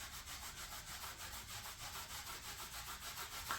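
A grease-stained Nissan SE-R trunk mat from a junkyard is rubbed by hand in quick, even back-and-forth strokes, a close, soft scrubbing rhythm that repeats steadily with no talking.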